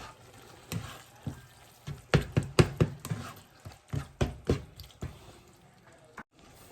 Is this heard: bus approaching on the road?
no